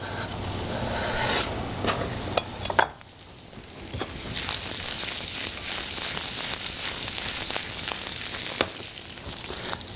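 Halved green onions hit a hot buttered pan beside salmon fillets, a loud, steady frying sizzle with clatter and stirring early on, a brief lull, then a bright, hissing sizzle that rises and holds.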